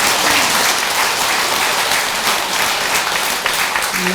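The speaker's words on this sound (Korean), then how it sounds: "조모 스님께도 박수 한번 쳐주시기 바랍니다." Steady, dense applause fills a Buddhist temple service hall as the congregation claps for a monk, loud and continuous, with a faint voice emerging at the very end.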